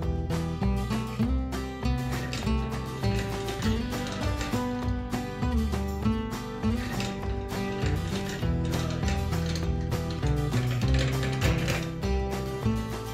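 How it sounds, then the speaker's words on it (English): Spindle opener cranking a Janssens greenhouse window closed, a continuous loud ratcheting and gear clatter with rhythmic clicks running throughout, close by and with no talk. "you can actually close this window and it stays completely secure."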